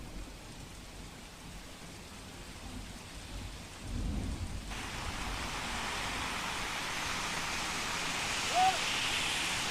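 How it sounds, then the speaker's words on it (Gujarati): Heavy rain falls steadily in Ahmedabad's Science City area, a dense continuous wash of noise that swells slightly midway, with a faint low rumble underneath. "અહીં પણ ધોધમાર વરસાદને પગલે સોસાયટીઓમાં પાણી ભરાયા હતા।"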